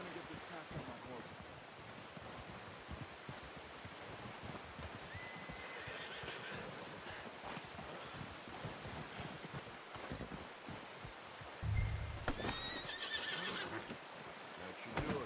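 In Red Dead Redemption 2, a horse gives a whinny and shuffling hooves sound over constant outdoor wind and ambient noise, with a louder rustle of movement near the end.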